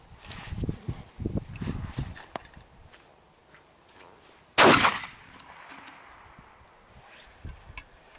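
A single loud shotgun blast fired with a RIO cartridge at a paper book target outdoors, a sharp close report after some scuffing and handling noises, with no talking.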